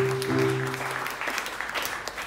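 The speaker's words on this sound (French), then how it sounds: "Acclamez très fort" A church congregation applauds loudly for testimonies, a dense wash of many hands clapping together, with a sustained tonal sound, likely music or a voice, audible in the first second.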